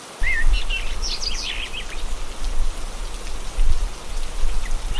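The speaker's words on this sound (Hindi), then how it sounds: "अगली सुबह जब वो लोग उठे तो हल्की हल्की बारिश हो रही थी" Light rain falls steadily on farm crops in a cartoon, a soft continuous patter with small droplet ticks. Chirping birds call over it near the start.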